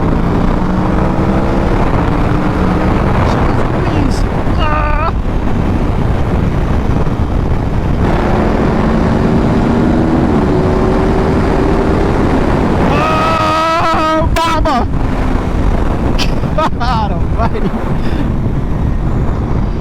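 A 2021 Aprilia Tuono V4 motorcycle engine revving and accelerating hard on the road, loud and close with rising pitch sweeps and heavy wind rush over the microphone.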